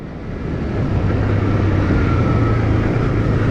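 A TVS Raider 125cc motorcycle engine and exhaust rumble steadily while riding on an empty road, building in level over the first second and then holding a constant, fairly loud drone with no speech.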